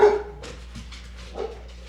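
A dog barks a few times at moderate distance, short sharp yaps separated by pauses, against a quiet background.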